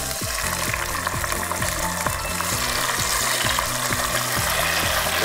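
Chopped tomato and grated coconut sizzling in hot oil for a Barishali coconut mutton curry, a dense, close, continuous frying hiss with repeated spoon stirs and scrapes against the pan, no speech.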